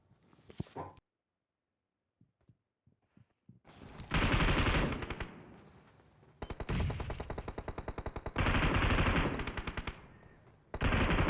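Bursts of automatic gunfire in a battle royale shooter game: brief quiet taps at first, then long loud rapid sprays repeating in several bursts with short pauses between.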